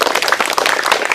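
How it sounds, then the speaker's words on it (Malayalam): Audience of schoolchildren at a school quiz show clapping for a child who answered correctly, a short burst of brisk, dense, close applause with no voices over it. "നല്ല ക്ലാപ്പ് കൊടുത്തേ."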